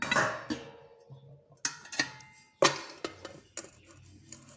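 Metal dishes clank and clatter in a few sharp, close knocks inside an idli cooker, with quieter scraping and settling between them.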